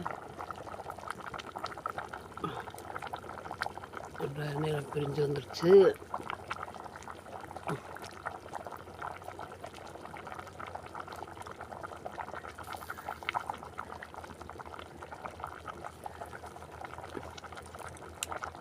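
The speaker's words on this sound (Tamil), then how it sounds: "குழம்பு நல்லா கொதிக்குது" Squid curry bubbles softly in a pot, a faint simmering burble running beneath a person speaking quietly.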